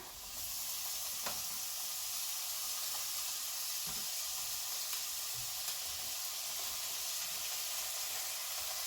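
Pork hits a hot pan and sizzles steadily, a bright continuous hiss with occasional small crackles and pops, fairly close and alone without talking.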